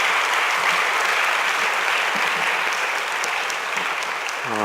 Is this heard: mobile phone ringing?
no